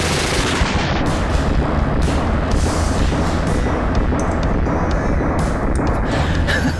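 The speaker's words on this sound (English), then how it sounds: "Give it a draw and a full mag dump." A PPSh-41 Soviet open-bolt submachine gun fires a full-auto magazine dump, a loud, continuous, dense rattle of gunfire lasting several seconds outdoors, with some wind buffeting the microphone.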